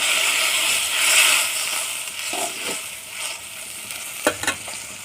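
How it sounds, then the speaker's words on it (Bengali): Masala with gram flour fritters frying in a pan as water goes in, a steady broadband sizzle with stirring scrapes and a couple of sharper spits near the end, close and alone. "এবার জল দিয়ে দেবো।"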